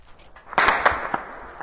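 Very close gunfire during urban street fighting between the army and the Rapid Support Forces in Sudan: a few sharp, loud cracks in quick succession, with no talk.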